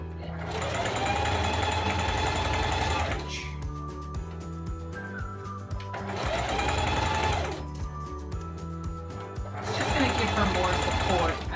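Sewing machine stitching elastic onto a tube dress, running in three loud, fast bursts of rapid mechanical whirring separated by quieter pauses.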